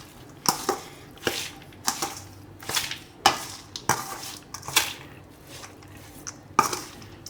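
A spoon stirs and folds a mango and fenugreek pickle mix with salt and chili masala in a bowl, making repeated scraping, slapping strokes roughly once a second, close and fairly loud.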